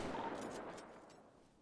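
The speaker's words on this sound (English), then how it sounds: "Oh, gunshots, gunshots!" Gunshots ring out in the video game GTA, a quick burst of several faint, distant cracks that fade out, heard without speech.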